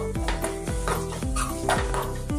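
A spoon stirs a teaspoon of poppy seeds into ridge gourd curry in a pot, giving soft, repeated scraping strokes with a faint sizzle under steady background music.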